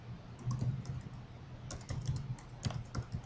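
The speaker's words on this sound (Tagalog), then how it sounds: "i-type po natin yung address" Quiet typing on a computer keyboard as an address is entered, with soft scattered keystrokes in short bursts and brief gaps, no talking.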